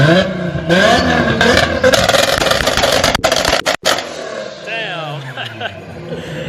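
A loud Shelby GT500 engine rumbles and revs, its pitch climbing and falling, then drops away to a lower idle near the end.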